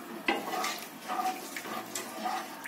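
A spoon stirs bitter gourd tamarind curry (puli kulambu) in a pot, making soft scraping and clinking touches against the metal over a low simmering hiss, fairly close.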